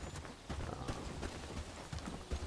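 Horse hooves clip-clopping in a video game, a steady run of soft, evenly spaced hoof thuds over a muffled background bed, fairly quiet throughout.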